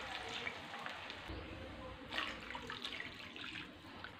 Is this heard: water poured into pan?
yes